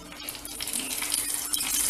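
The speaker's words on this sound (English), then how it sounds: "So while adding, you'll get a sizzling sound." A drop of water hits hot homemade herbal hair oil in a pan, giving a loud, continuous bright hiss and crackle that swells slightly over two seconds.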